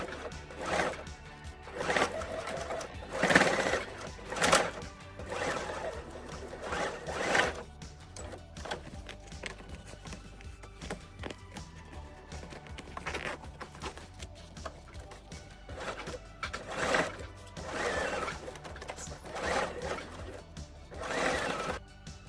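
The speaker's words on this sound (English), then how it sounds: "Now sew it on the red line." Sewing machine stitching a denim backpack made from old denim, several bursts of rapid mechanical stitching separated by short pauses, close and fairly quiet, with no talking.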